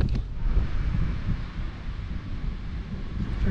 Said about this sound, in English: It's a bit blowy up here